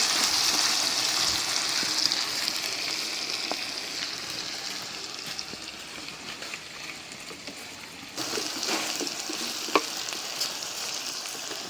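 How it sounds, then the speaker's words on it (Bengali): Potatoes, sliced onion and green chilies frying in oil left over from frying fish, with a steady close sizzle and stirring that swells louder for the last few seconds. "একটু কাঁচামরিচটাও ভাইজা দিই।"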